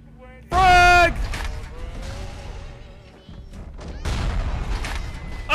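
A frag grenade blast in the game BioShock lands as a loud, sudden burst with a crackling tail. Excited talk follows and carries on over the rest of the action.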